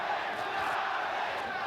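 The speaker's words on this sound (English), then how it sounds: "the crowd, after sitting on its hands through the entrance of the fighters and the introductions, has now gotten right into it in the first round" A boxing arena crowd at a 1987 Chavez vs Rosario title fight roars steadily through the first round, a dense, continuous wash of cheering and shouting that is heard from a distance.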